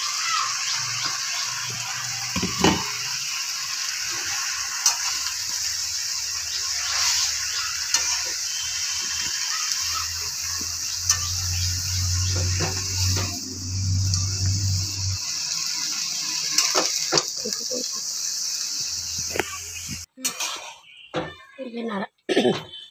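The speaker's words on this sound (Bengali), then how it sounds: "দেখুন নাড়াচাড়া করে নিই। এই দেখুন আমি শাক দিয়ে দিয়েছি, আলু টমেটো সব ভেজে নিলাম, শাকটা ছেড়ে দিলাম।" Potatoes, tomatoes and leafy greens stirred and frying in a pan, a steady broadband sizzle with scraping strokes, low rumbles and an occasional cough, ending in a few sharp knocks.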